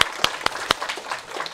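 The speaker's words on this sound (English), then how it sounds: "let's give Sunny a round of applause." Scattered handclaps from a small audience after a university database lecture, a few sharp, distinct claps followed by softer, thinning clapping that fades within about a second and a half.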